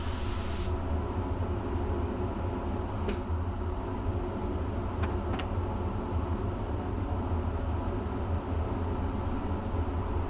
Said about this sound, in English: So I am using an aerosol here.